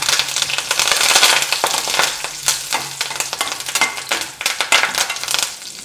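Curry leaves and mustard seeds crackle and sizzle loudly in hot oil in a pan for a rose apple pickle, with steady frying hiss and quick popping bursts throughout, no voice present.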